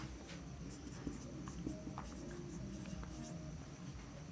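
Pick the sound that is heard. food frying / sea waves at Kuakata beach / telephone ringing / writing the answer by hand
writing the answer by hand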